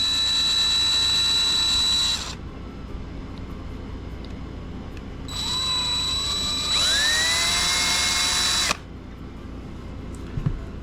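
A power drill with a 7/32 bit whines loudly in two bursts while repairing a plastic toy figure, the second rising in pitch as it bites, with a quiet pause between and a faint clatter afterward.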